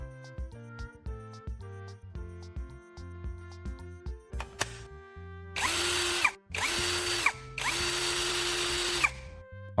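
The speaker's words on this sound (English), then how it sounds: "check whether the drill itself runs the way it should" A cordless drill whirs loudly in three bursts, each spinning up and cutting off, after a stretch of soft background music.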